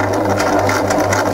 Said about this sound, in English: apply this band with your serger